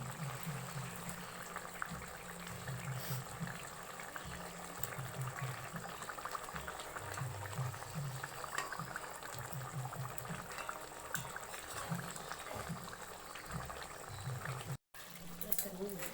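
Pomfret fish curry in oil (tel jhal) simmers in a pan with a soft, continuous bubbling that stays fairly quiet throughout, under a low murmur, with one brief dropout near the end.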